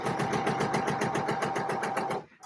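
A sewing machine stitching a dart in a pair of trousers, a fast, even run of mechanical needle strokes close by for about two seconds before it stops abruptly.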